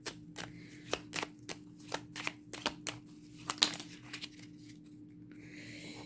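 A small deck of angel oracle cards is shuffled by hand, a quiet series of crisp riffling flicks in an uneven rhythm that thins out toward the end, with no voice.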